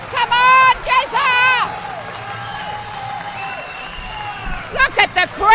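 Crowd at the IPF World Classic Powerlifting Championship cheering and applauding a lifter, loud bursts of shouting and whooping that rise, pause, and swell again near the end.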